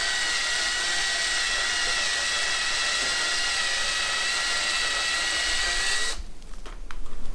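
A drill-powered tool bores down during a sweet corn harvest, its high, steady whine holding for several seconds before it cuts off and leaves a few knocks and rattles.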